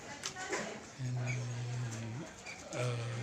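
Pigeons or doves cooing at a bird kiosk, two or three low rounded coos up close, with a faint voice in the background.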